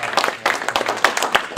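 A studio audience at a televised interview show claps for two guests, a dense burst of many hands applauding together, fairly loud and sustained throughout.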